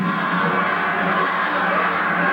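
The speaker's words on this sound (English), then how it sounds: "The crowd solidly behind El Cobra." A wrestling crowd at an independent show roars in a dense, continuous wash of cheering and shouting, loud and steady throughout with no pauses.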